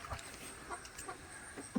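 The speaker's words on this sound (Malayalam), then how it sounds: "കോഴിക്കുട്ടന്മാർ കൊത്താൻ റെഡിയായിട്ടിരിക്കുകയാണ്" Chicks cluck in short, scattered bursts close by while being fed, with a steady high hum in the background.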